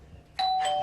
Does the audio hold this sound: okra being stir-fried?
no